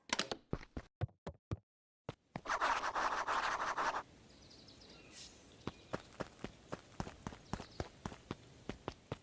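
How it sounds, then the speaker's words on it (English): Game footsteps in Beacon Pines come as a string of crisp, evenly spaced steps, broken by a short pause and a rustling swell, then resume as a steady approaching patter. "Luca heard a group of footsteps approaching."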